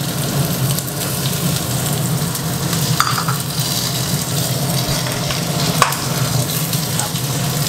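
Aromatics stir-frying in a pan before shrimp go in, a steady close sizzle and crackle with occasional scrape of a utensil, continuous and alone without voices.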